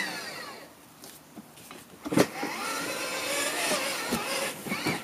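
The electric motor of a Grave Digger Power Wheels ride-on toy truck whirs steadily and grows louder partway through, mixed with plastic rattles and bumps, close by, with no talking.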